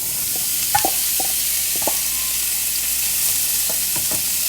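Sausages frying in a little oil in a pan for a breakfast casserole, a steady close sizzle with occasional scraping stirs and light taps of a utensil.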